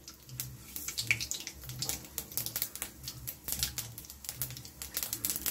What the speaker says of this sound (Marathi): आता राई टाकून घ्यायची, राई चांगली तडतडली पाहिजे।